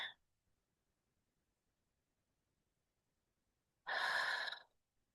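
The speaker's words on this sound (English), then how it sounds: "I invite you to take one more slow breath." A single slow, deep breath drawn close to the microphone in a quiet guided awareness exercise at a talk, lasting under a second after a long stretch of near silence.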